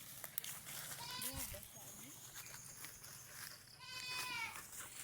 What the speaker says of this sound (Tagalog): Kambing to.